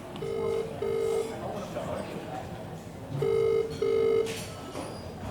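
A telephone rings with electronic tone bursts in two paired sets, separated by a pause, while people chat and laugh in the background.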